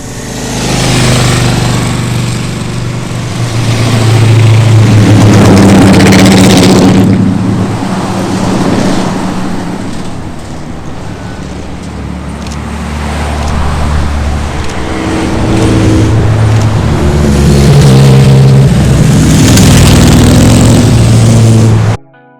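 Ferrari and Lamborghini sports cars on a touring drive along Highway 1 during a car week event, passing one after another with loud engine roars that swell and fade as each car goes by, no talking.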